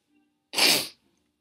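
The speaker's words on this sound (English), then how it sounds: "I'm gonna sneeze." A single loud, sharp sneeze, close up, in an otherwise quiet moment.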